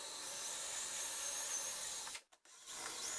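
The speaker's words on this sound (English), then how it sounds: "I used my new drill press for these" A drill press whines steadily at high pitch while drilling holes in a wooden garden table, then cuts out briefly twice before spinning up again.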